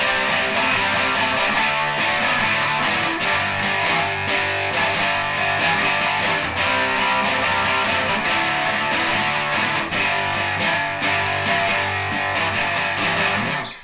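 A crunchy, bright electric guitar plays driving punk chords with a full band, loud and continuous, with mild distortion rather than heavy fuzz.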